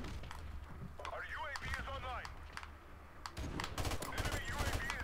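Gunshots in a video game firefight crack out in scattered bursts among clicking keys, with a whistling electronic sweep in the middle and a voice talking throughout.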